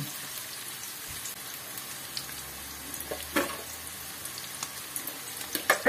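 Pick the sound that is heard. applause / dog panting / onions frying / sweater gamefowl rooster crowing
onions frying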